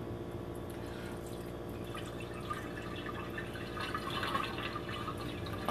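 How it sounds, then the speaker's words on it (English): Water draining off cooked rice into a sink, a faint, steady trickle and dribble with light splashing that swells slightly toward the end, with no talking. "I'm draining the rice."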